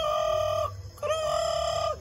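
A person's voice imitates a turkey gobbling, making two drawn-out, strongly tonal calls separated by a short break, loud and close.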